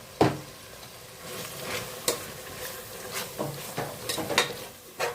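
Tomatoes fry in a pan for chicken biryani, with a soft, steady sizzle under scattered sharp scrapes and taps of a spoon stirring against the metal.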